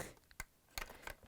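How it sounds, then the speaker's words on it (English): Plastic tabs on a Bosch dishwasher outer door panel clicking into place, three small sharp clicks close by in quick succession, faint and alone. "Slide it in, tabs will click,"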